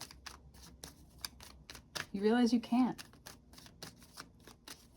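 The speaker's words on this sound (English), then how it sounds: "I've been shuffling forever right now." A deck of tarot cards is shuffled close by in a steady run of quick papery riffles and taps, with someone briefly speaking over the middle of it.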